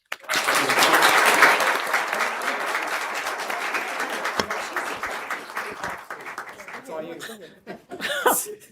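Audience applause fills a council chamber for the Women's Club of Newport News, loud and sustained with some chuckles and laughter mixed in, then tapering off as a voice begins speaking near the end.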